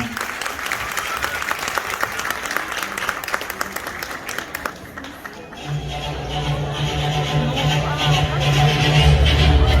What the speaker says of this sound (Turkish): Anaya ile birlikte Profesör Deniz Yıldızları alkışlarınızla